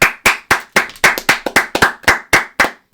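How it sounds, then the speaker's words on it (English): A single pair of hands claps sharply and loudly at close range, about a dozen crisp, slightly irregular claps in quick succession with short silences between them. "You got a lot of aggressive claps going on tonight."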